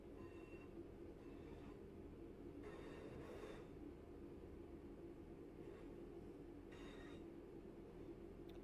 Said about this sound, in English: Wait for the train to clear the junction.